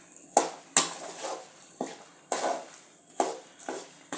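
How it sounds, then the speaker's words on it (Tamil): A spoon stirs rice upma through oil in a pan, giving a series of sharp scraping and clinking strokes at irregular intervals, each fading into a soft sizzle, close and without speech. "நல்லா இந்த மாதிரி எல்லா பக்கமும் எண்ணெய் வர மாதிரி நல்லா கிளறி விட்டுடுங்க"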